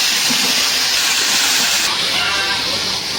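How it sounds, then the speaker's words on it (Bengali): Bottle gourd and potato go into a hot pan of turmeric, chili, coriander and cumin, giving a loud, continuous broadband hiss of sizzling that fills the whole stretch, close and steady. "এখন দিয়ে দেবো লাউ আর আলু।"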